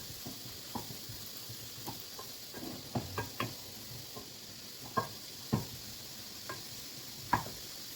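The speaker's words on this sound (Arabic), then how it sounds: "غادي ندير الفلفله الحمراء والخضراء وحتى هي تشحر مزيان" Red and green peppers sizzle faintly in a pan as they fry, with a steady soft hiss broken by scattered knocks and stirring taps.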